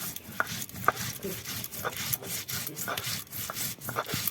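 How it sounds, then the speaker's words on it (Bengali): Green chillies being ground into a paste on a grinding stone in a home kitchen, a steady scraping, rubbing rhythm of repeated strokes up close, with no talking. "কটা কাঁচা লঙ্কা বেটে নিচ্ছি"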